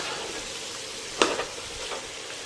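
Chili powder cooking in a frying pan gives a soft, steady sizzle, with one brief scrape of a stir midway through.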